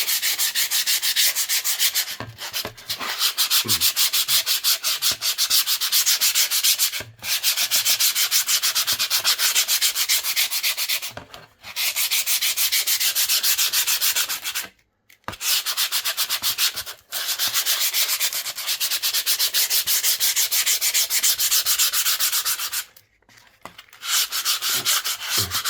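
Hand sanding of painted plywood panels being prepared for oil painting, loud close rasping strokes in long continuous runs broken by short pauses, with no talking.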